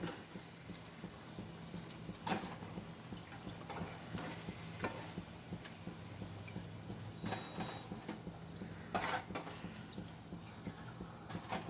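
Mirchi bajji (chilli fritters) frying in hot oil at a street food stall, a steady broadband sizzle with occasional louder crackles and stirring clatter.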